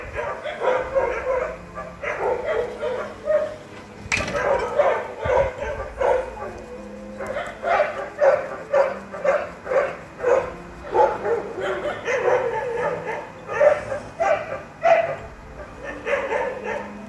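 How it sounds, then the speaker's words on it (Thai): Several dogs bark and howl after one in the morning, a long run of repeated yapping barks with drawn-out howls and whimpers, mid-distance and persistent, with a low background hum throughout. "เสียงหมาเห่าหมาหอนอีกแล้ว"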